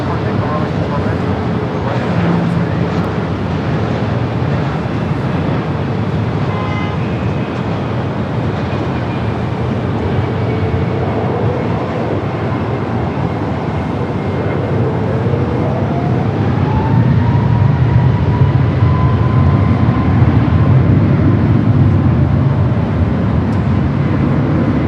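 Aeromexico airliner in updated livery rolling down runway 24 left at LAX for takeoff: a broad, continuous engine roar building steadily over about twenty-five seconds, with a rising tonal whine, as a voice talks over it.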